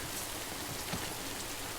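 Rain falls steadily in the video game Death Stranding, making an even, soft hiss of patter with no talk over it.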